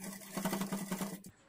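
A sewing machine stitches folded blouse piping in a short, steady mechanical run of rapid needle beats that cuts off near the end, heard alone.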